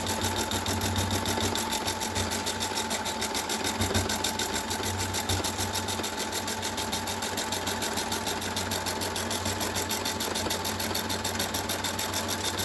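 Sewing machine stitching a chair cushion runs steadily and close up, a continuous rapid mechanical whir with a fast even needle rhythm throughout.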